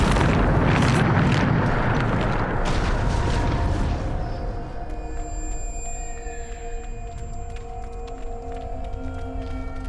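Bombarda blasting spell in Hogwarts Legacy on PC: one heavy, rumbling explosion bursts at the start and decays over several seconds into ringing tonal game ambience, loud and close.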